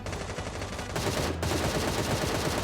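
Gunfire in the video game Sausage Man: dense, rapid bursts of shots over a continuous loud game soundscape, with a brief shift in intensity partway through.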